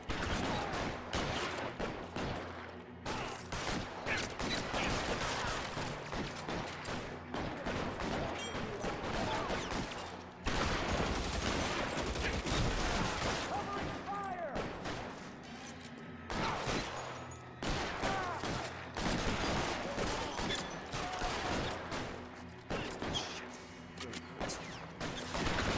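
Gunfire in the video game L.A. Noire: dense, rapid bursts of automatic fire and crashing impacts fill the scene almost continuously, loud and close, with brief gaps between volleys.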